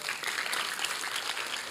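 Sustained audience applause from a crowd of listeners at a Christian talk, steady dense clapping throughout with no gaps.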